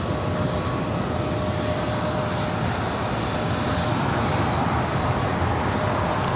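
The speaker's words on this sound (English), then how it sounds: "Volaris Flight 912 coming in from Guadalajara at A320 Neo." Volaris Airbus A320neo jet arriving from Guadalajara on approach to land at Los Angeles International Airport, a steady broad roar of engine and airflow noise holding constant throughout without talk.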